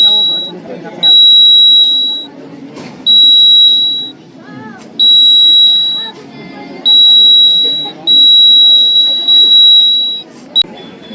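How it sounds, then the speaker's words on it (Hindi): A fire-detector science model buzzer at a school science exhibition beeps in a steady repeating pattern of about six loud, shrill bursts, close by, with people talking in the gaps. "आग कहीं भी लगेगा, मतलब जैसे ये डिटेक्ट करके अलार्म अपना डिटेक्ट करके बजने लगेगा"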